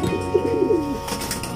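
Racing pigeons coo in a soft, rolling burst close by, with faint steady background noise and no talk.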